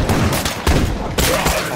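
Gunfire at zombies in State of Decay 2 comes as three loud, close, booming shots in quick succession, about half a second apart, with no talking over them.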